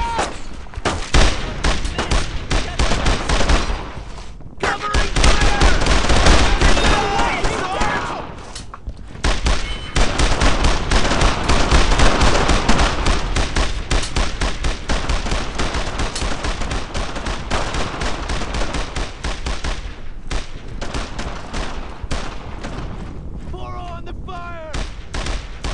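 Sustained WWII-era gunfire in the video game Brothers in Arms: Road to Hill 30, loud dense bursts of rifle and machine-gun fire rolling on with brief lulls, with shouted voices mixed in.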